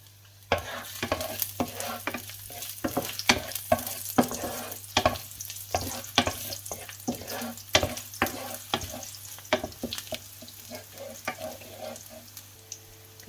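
Garlic sizzles in hot oil in a wok as a utensil scrapes and stirs in irregular strokes, close up, with no talking.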